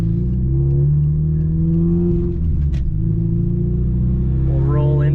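JDM Subaru Legacy GT with the EJ20Y engine, low on fuel, accelerating hard at wide-open throttle. Loud, close, rising engine tones climb steadily with a brief dip and recovery midway.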